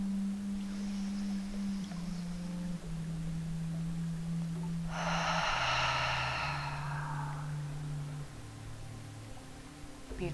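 A slow, deep breath in a yoga class, the long airy exhale swelling up over a steady hum of soft background music before fading away.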